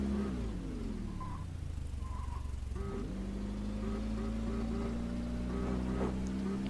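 A car engine in the Brick and Driver video game steadily hums and revs while running a short course, its pitch rising and falling with throttle, loud and continuous throughout.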